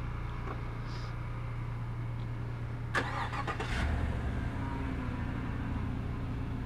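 A 2016 Chevrolet Tahoe 4WD LT engine runs at a steady idle after a remote start, a low even hum heard from outside the SUV, with a few brief clicks and a slight rise in rumble partway through.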